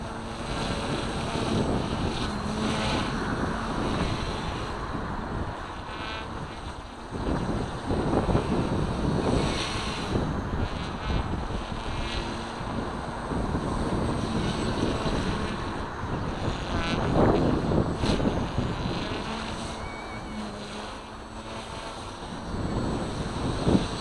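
Steady roaring wind buffeting a microphone outdoors while a small K130 remote-control helicopter flies, a continuous rushing noise that swells and dips throughout with no voices.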